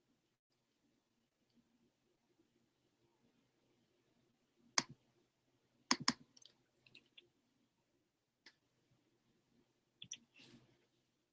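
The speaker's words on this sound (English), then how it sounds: "I'm going to click around so that we are all on the same page here" Sparse computer mouse clicks, a few single taps and a quick cluster of clicks, close and quiet against near silence, no talking.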